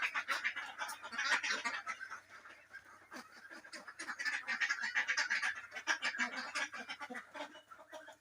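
Black ducks on a duck farm quack and honk in a busy, continuous chorus of overlapping calls at moderate distance, fairly quiet overall and rising and falling in waves.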